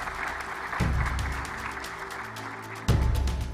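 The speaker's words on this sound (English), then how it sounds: "Let's give him a round of applause, ladies and gentlemen." A conference audience at Rwanda Mining Week claps steadily, with the applause surging louder partway through and again near the end, continuous and close.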